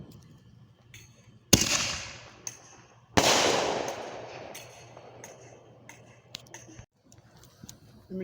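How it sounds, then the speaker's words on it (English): Fourth of July fireworks outdoors: two sharp, loud explosions a couple of seconds apart, each followed by a long crackling decay, with scattered small pops and ticks before and after. "First firework of the year."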